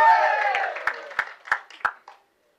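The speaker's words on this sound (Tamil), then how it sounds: "தயவு செஞ்சு நீங்களே ஒரு தடவை கை தட்டிடுங்க" Audience at a film audio launch claps and applauds, a wash of clapping that thins into a few loud separate claps before stopping abruptly.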